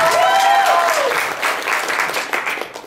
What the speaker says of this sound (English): Audrey Lewis, round of applause.